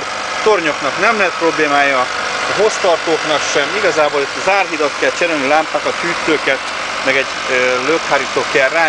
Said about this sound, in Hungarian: és csodaszépen jár is benne ez a motor